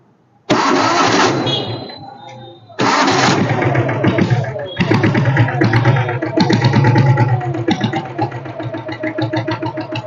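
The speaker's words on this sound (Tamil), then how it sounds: "ஸோ நான் ஃபர்ஸ்ட் ஆஃப் ஆல் செல்ஃப் போட்டு காட்டுறேன்" A diesel Royal Enfield Bullet motorcycle is self-started twice, each time a short cranking burst catching into a loud, close engine run that settles into a steady thumping idle, with no talk over it.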